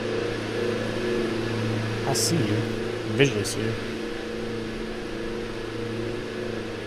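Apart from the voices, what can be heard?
Diamond DA-42 diesel aircraft engine in flight simulator video game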